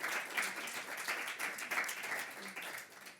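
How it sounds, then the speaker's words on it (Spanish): An audience at an open innovation round table applauds a speaker as she is introduced. The clapping is continuous and moderately dense, heard at a distance and fairly faint, with no clear voices over it. "Por favor, un aplauso para ella."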